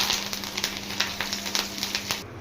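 Curry leaves crackle and sizzle in hot oil as a tempering of dried red chillies, urad dal, cumin and mustard seeds fries, with rapid pops over a steady sizzle, close and moderately loud.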